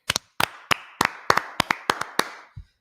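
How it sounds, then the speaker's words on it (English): Hands clap about a dozen times in an uneven rhythm, close and crisp, at a religious class gathering, with no voices alongside. "Clap it up for the Lord."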